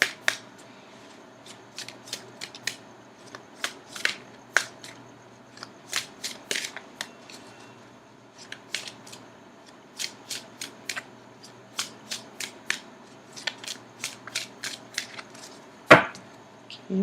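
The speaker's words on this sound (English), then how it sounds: "I'm going to cut the cards." Tarot cards being shuffled and cut by hand, a steady run of crisp, close riffles and slaps in quick irregular bursts, ending with one louder sharp knock, no talking.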